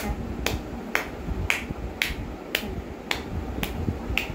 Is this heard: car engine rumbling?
no